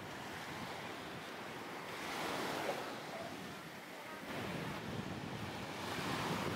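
Steady, roaring gusts of strong wind in Romania buffet the microphone, with a broad rushing noise like surf underneath; no voices, just constant blustery wind close up.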